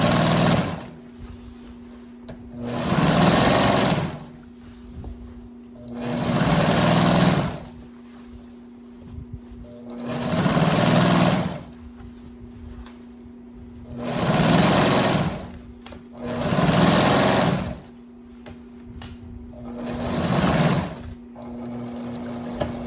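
Sewing machine stitching rows of gathers (franzido) on fabric with a half presser foot, running in six steady bursts of a few seconds each, loud and close, separated by short pauses with a low hum.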